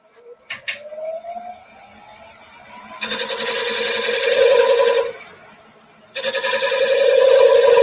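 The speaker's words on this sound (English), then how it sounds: "I'm going to use the edge of my shear scraper and just go very," Wood on a lathe being tapered with the edge of a shear scraper, a steady high whine with a rising tone early, then two stretches of louder broadband scraping separated by a brief quieter gap, close and alone.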